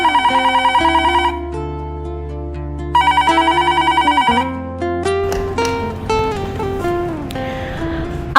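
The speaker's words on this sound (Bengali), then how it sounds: "আবার ফোন করেছে।" A telephone rings loudly and repeatedly with an incoming call, its bell pattern clear at first before merging into a swelling background music score.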